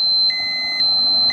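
A radiation dosimeter alarm gives a high, piercing electronic beep in short repeated pulses, clear and close, over a faint hum, at a roadside checkpoint on Route 6 in Minamisoma, Fukushima, reading 0.3 microsieverts.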